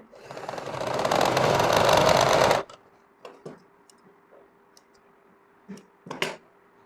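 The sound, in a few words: sewing machine stitching thick rubber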